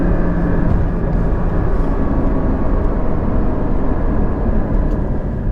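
Porsche Cayman GT4 engine on winding canyon roads, a loud, steady drone heard from the cabin with rumbling road noise and no voices.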